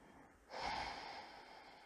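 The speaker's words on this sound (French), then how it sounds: "On va prendre encore une respiration." A single deep breath is drawn in during a gentle stretching exercise. It starts as a sudden airy inhale, close and clear, then fades to a long soft breath with no talking.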